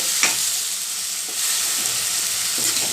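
Curry leaves and rice seasoning frying in a pan over a medium flame, a steady close sizzle with a few soft stirring scrapes and no talk.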